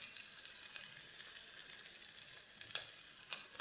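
Cumin seeds sizzle in a hot pan while perugu pulusu is being made, a steady, close frying hiss with brief crackling pops scattered through it.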